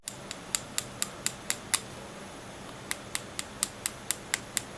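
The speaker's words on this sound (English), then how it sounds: "you know your nail will be hardened and ready to file when you hear a clicking sound" Sharp, light clicks as a hardened dip powder nail is tapped, about seven in a quick even rhythm, a pause, then another run of similar taps, close and quiet.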